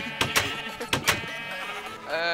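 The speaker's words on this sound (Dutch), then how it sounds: "Schapen, hou je kop." Blocky sheep in a Minecraft game bleat in several quick loud bursts, with a longer wavering bleat near the end, alone and close.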